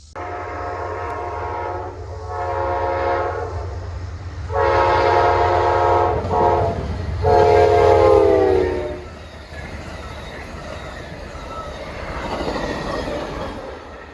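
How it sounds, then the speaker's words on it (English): An Amtrak passenger train, number 50 Cardinal with a New York Central private car, rumbles past at about 85 mph while its horn sounds in several long, loud blasts, then the noise fades as it moves off. "Came through here probably doing about 85 miles an hour, and then that really neat special New York Central private car."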